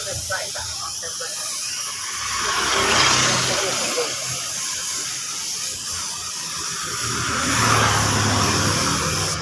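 Clear coat is sprayed from a can onto a black motorcycle engine, a continuous close hiss that swells and eases as the nozzle sweeps across the engine, steady throughout.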